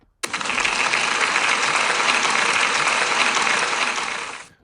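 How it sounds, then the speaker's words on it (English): Dense, steady applause from an audience at a school celebration assembly starts abruptly, holds at full strength for about four seconds, then fades. "Can we give her a big round of applause, please?"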